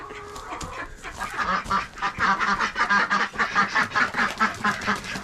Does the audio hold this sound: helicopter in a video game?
no